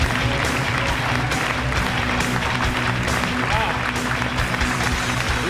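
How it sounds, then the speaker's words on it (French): An audience at the 2014 Quebec magic festival applauds contest participants, a full, continuous burst of clapping with crowd murmur and some voices mixed in beneath it. "J'aimerais qu'on applaudisse les 4 participants."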